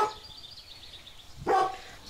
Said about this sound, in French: Que le chien il se taise, fait peur à la colombe.